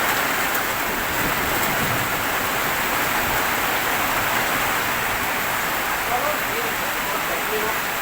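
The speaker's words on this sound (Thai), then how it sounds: "ฝนตกฝนตก" Steady rain falls during a storm near a small hut at the edge of rice fields, a dense even hiss throughout with no clear thunder.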